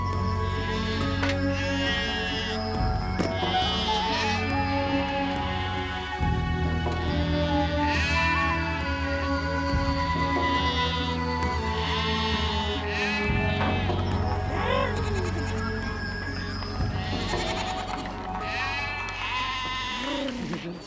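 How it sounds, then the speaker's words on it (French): Goats and sheep of a herd on the Mongolian steppe bleat in overlapping calls, loud and continuous throughout, close by with many animals crying at once. "Il ne faut pas qu'elles considèrent les chèvres et les moutons comme des proies."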